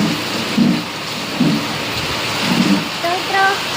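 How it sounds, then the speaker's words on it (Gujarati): Heavy unseasonal rain pours in Gujarat with a constant roar, while several soft low thuds of thunder come in a loose rhythm and a voice talks over it. "વરસાદ તો મિત્રો બહુ બધો વરસાદ પડે છે."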